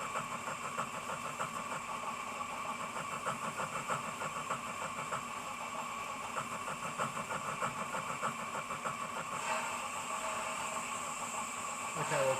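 A model steam locomotive fitted with an ESU sound decoder drifts, giving off a steady, close mechanical chuffing rhythm layered with constant hiss that carries through the whole stretch without pause.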